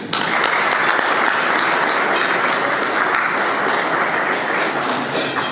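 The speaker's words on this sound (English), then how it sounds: "Gentlemen, give yourselves a round of applause." Loud, dense applause from a large audience of boys, steady and sustained for several seconds with no talk over it.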